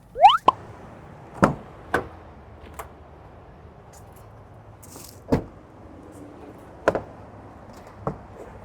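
Rear cab door of a 2024 Isuzu D-Max Spacecab S pickup being opened: a series of sharp, close clicks and knocks from latch and hinge, spaced out over several seconds in an otherwise quiet setting.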